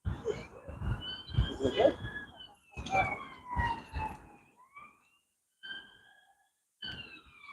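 A police van siren wails in rising and falling sweeps in Falkirk, fairly distant, beneath someone talking, then continues faintly on its own after he pauses.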